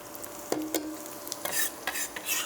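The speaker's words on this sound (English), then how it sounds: "I'm going to add the garlic now to that." Garlic sizzles as it is stirred into frying onions for a chilli cumin dal, with a soft continuous hiss broken by a few scraping spoon strokes against the pan.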